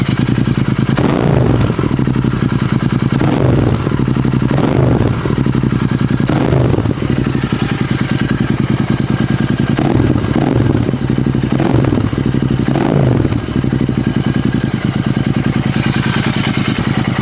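Royal Enfield GT 650 motorcycle with an SSP aftermarket exhaust and BMC air filter idling with a deep, steady thump, blipped into a series of short, loud throttle revs up to about 3000 RPM, heard close up.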